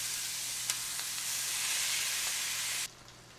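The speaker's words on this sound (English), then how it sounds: "We want our flour tortilla to get nice and crispy" Flour tortilla frying crisp in a lightly oiled pan, a steady close sizzle and hiss with a few faint stirring taps, cutting off abruptly near the end.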